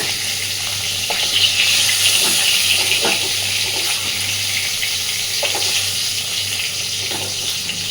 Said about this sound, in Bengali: মোটামুটি বেগুনগুলো ভেজে নিয়েছি, এর থেকে বেশি ভাজবো না, তাহলে একেবারেই গলে যাবে।